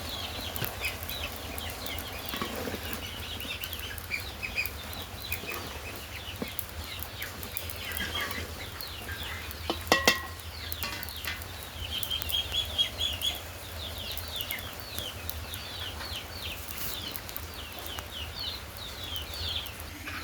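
Chickens cluck and call softly in the rain against steady outdoor background noise, with a brief louder burst midway and scattered bird chirps throughout.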